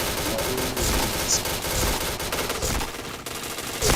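Gunfire in a shooter video game, dense rapid bursts and rattling shots packed tightly together, loud and continuous throughout with little pause.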